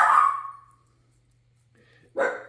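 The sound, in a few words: dog barking outside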